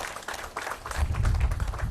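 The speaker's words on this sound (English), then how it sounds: "Let's give them another round of applause" An audience applauds at a Milwaukee County Juneteenth event announcement, with a close, even patter of many hands and a low rumble building under it.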